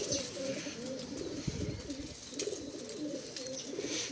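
Domestic racing pigeons coo softly and repeatedly, a low, rolling murmur of overlapping calls held steady in the background with no talking.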